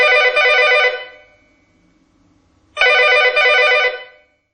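Two loud bursts of a telephone bell ringing from a senior-friendly emergency alert phone, each about a second long with a pause between, close and clear with no voices.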